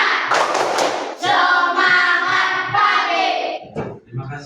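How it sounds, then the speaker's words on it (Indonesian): A fifth-grade class claps out a 'tepuk semangat' spirit-clap rhythm, with dull thumping claps under loud children's chanting voices that fill most of the few seconds. "mari kita tepuk semangat lagi sekali ya"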